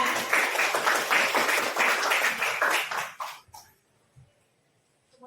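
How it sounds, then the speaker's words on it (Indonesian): An audience claps for Ibu Lydia at a school positive-culture dissemination event: a dense, steady round of applause for about three seconds, then tapering off into near silence with a few faint stray sounds. "Sekali lagi kita berikan tepuk tangan kepada Ibu Lydia."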